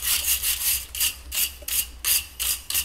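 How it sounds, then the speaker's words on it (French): A wire brush scrubbing corroded exposed rebar on a reinforced concrete beam, about eight rhythmic back-and-forth strokes, close and harsh with bright scratchy bursts. "avec votre brosse métallique, vous allez brosser"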